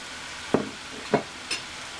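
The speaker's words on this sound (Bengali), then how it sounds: "এখন মাছটাকে হালকা হাতে মশলার সঙ্গে আমি এভাবে নেড়ে মিশিয়ে নিচ্ছি" Fish being stirred gently with spice masala in a pan for a coral fish do-piyaza, giving three soft separate scrapes of a utensil over a quiet sizzle, with no voices.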